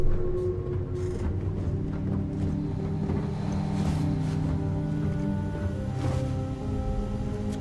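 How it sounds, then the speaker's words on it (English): Spaceship engines warm up in Starfield, a steady, dense low rumble with a faint whooshing texture that holds evenly throughout, with no voices. "Did I warm up the engines?"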